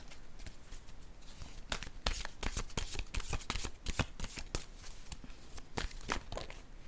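Oracle cards being shuffled and drawn by hand, with a close run of crisp riffles and flicks in uneven bursts, alone without speech.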